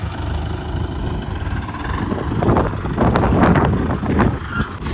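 A tractor engine chugs loudly nearby with a deep, steady rumble and occasional rattling as it works.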